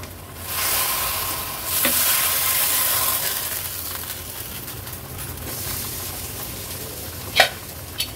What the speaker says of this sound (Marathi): आता हा तडका आपण ह्या खिचडीला देऊया।